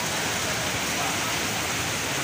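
Very heavy rain pours down at a market yard in a steady, dense, loud hiss that fills the whole stretch without a break.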